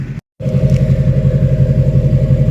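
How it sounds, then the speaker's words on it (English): Deep, loud exhaust of a fully emissions-deleted Duramax LBZ diesel truck idling close by, a steady pulsing low rumble after a brief cut of silence at the start. "the idle rumble just sounds amazing"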